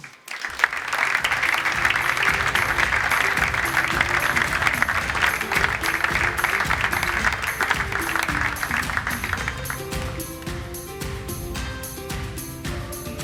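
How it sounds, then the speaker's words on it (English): An audience at the ATP Cup official draw applauds three former world number one tennis players, a sustained, dense crowd applause that gradually thins toward the end while a low musical tone sits underneath. "A warm round of applause for John Newcombe, Pat Rafter, and Leighton Hewitt."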